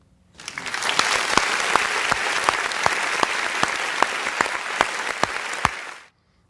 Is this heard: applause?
yes